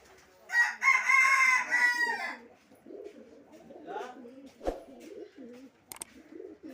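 Bird calls ring out loud and close among pigeons at a Rajshahi market, with a strong burst of calling early on, then softer cooing and fluttering, and scattered background chatter.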